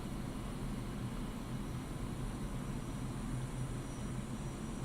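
Su-25 Frogfoot jet engine in the DCS World flight game, a steady, dense roar holding at an even level throughout, with no voices.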